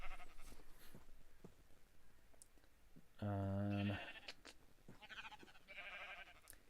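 Video game sheep let out one loud, clear bleat in the middle of the clip, surrounded by quiet clicks and faint background sounds.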